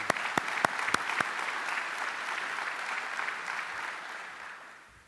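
Audience applause fills an opening ceremony hall for a U.S. Army event at I/ITSEC 2023, a steady wash of many hands with a few sharp nearby claps at the start, holding loud and even before tapering off.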